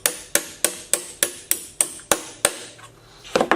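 A hammer strikes a rivet on a Louis Vuitton trunk with nine sharp, evenly spaced metallic blows. A short pause follows, then a quicker cluster of lighter taps, close and loud with no talking.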